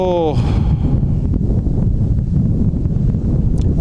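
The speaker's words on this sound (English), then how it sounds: "Why is it so damn windy out here?" Strong wind blowing outdoors, a loud, constant buffeting roar against the microphone that persists throughout, with a brief voice at the start.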